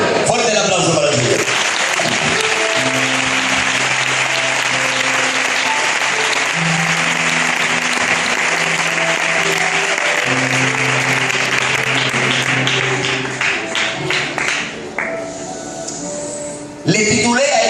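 A church audience applauds loudly and continuously for a long stretch, dense clapping filling the room while a voice speaks over it, fading toward the end before a final burst.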